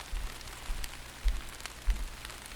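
Soft, steady rain patters on a surface with scattered faint drops, a quiet even hiss with no voices.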